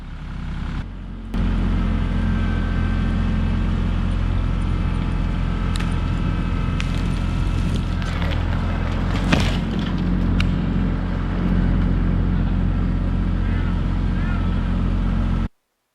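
A steady, loud engine drone from a roughly 5,000-pound tractor pulling over a tree, rumbling low end, a few thuds and creaks partway through, then cuts off abruptly.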